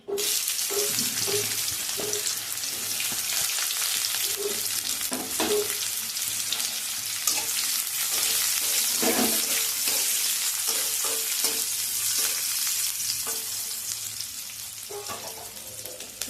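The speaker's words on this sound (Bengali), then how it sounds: "এটাকে এবারে আমি হালকা করে নাড়াচাড়া করে ভেজে নেব" Chopped onions sizzle and crackle in a hot pan for a dish of potato fry with kolmi (water spinach) greens, with steady frying hiss and repeated scraping, clattering stirs, up close and with no talk.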